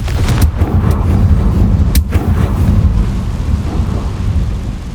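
Bombarda and Confringo explosive spells cast in Hogwarts Legacy, loud rumbling blasts with a few sharp cracks early on, followed by a sustained heavy roar that slowly fades.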